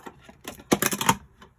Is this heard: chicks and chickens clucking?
no